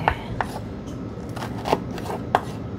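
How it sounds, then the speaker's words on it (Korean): A knife slices seasoning vegetables thinly on a cutting board, with sharp chops landing at irregular intervals over a soft background hiss, close and clear with no speech. "이거 구울 때 들어가는 양념을 먼저 썰고요."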